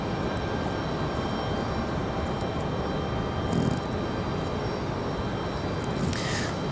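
A Delta airliner departing Raleigh-Durham International for Orlando, heard as a steady, broad engine roar that fills the whole stretch at moderate distance, with no talk over it.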